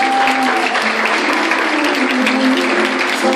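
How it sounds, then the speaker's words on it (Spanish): Sustained applause from an audience at a charity music gathering of northwest voices in 2018, dense and steady throughout, with a faint tone held over the clapping. "Fuerte el aplauso."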